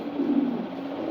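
A brief low coo from male pigeons in a mixed-breed loft, soft and continuous, heard alone without voices.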